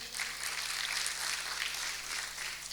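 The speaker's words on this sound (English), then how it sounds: "A better round of applause to our judges table." Steady applause from an audience for the judges' table at a high school debate competition, an even wash of clapping heard at a slight distance with no talk over it.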